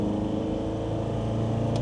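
A Land Rover Defender 2.4 with a Stage 3 tune at full throttle gives a deep, steady engine drone at high revs, a continuous low rumble with a throaty exhaust burble and no voices.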